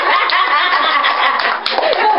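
A group claps their hands in a loose, continuous patter at a Women's Day and Mother's Day gathering, close and fairly loud, with a little laughter mixed in.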